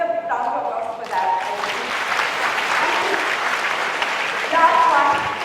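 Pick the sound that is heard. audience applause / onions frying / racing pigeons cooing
audience applause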